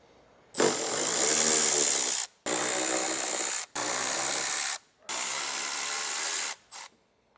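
A power tool whirs in four loud, close bursts with short pauses between them, backing out 10mm bolts from the mud flaps of a 2016-2023 Toyota Tacoma, each run steady and high-pitched.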